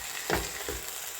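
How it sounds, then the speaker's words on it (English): Spaghetti being stirred in a cooking pot, giving two short scraping, sloshing strokes over a steady sizzling hiss with no talking. "Now I'll give it a good stir."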